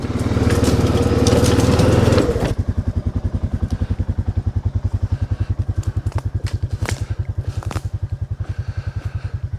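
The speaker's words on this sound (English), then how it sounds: "you can see how the ATV is crushing that down to help fill the gap here" An ATV rolls over and crushes a dirt service road: a loud engine roar first, then a close, rapid, regular chugging pulse of the motor running alone throughout with faint crackles on top.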